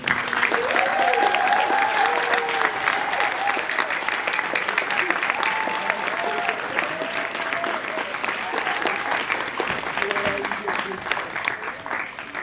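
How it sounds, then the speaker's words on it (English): A standing crowd gives sustained applause for 2018 graduates at an Academy of Learning Career College graduation ceremony in Surrey. The clapping is dense and even throughout, with scattered voices and cheers mixed in. "I would ask that you all rise to give a big round of applause for all the graduates of 2018 of the Academy of College"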